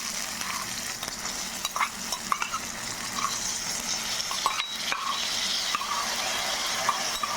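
Sprouted green gram sautéed in about 1.5 teaspoons of coconut oil, a steady close sizzle broken by frequent spatula clicks and stirring scrapes, no talking.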